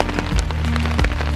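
Rain falls outdoors in Costa Rica, a dense, hissing wash broken by a few sharper knocks and splashes close by, with no speech.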